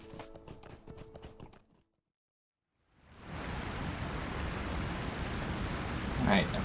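Horse hooves clip-clop steadily in the LotRO video game after a brief silence, a continuous dense rhythm of fairly loud footfalls with no voices.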